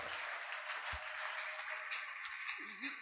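A church congregation applauds loudly during a Sunday worship service, a dense, sustained wash of clapping throughout with a brief low thump partway through and a faint voice near the end.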